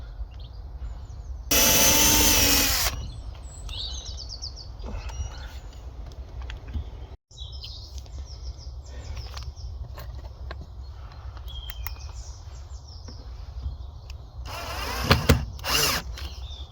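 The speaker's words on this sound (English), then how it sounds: "Got to drill these holes, otherwise I'll split the ply." A power drill bores holes in plywood near the edge while a 12V fridge is fitted into a campervan. Two loud, whining bursts of drilling are separated by quieter handling clicks and knocks.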